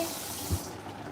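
Tap water runs steadily into a sink as kaffir lime leaves are rinsed for cooking, a soft continuous wash with a brief louder splash midway.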